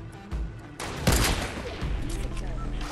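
Bursts of gunfire in a video game shootout, dense overlapping shots with a louder crack near the one-second mark, mixed with game noise and faint voices.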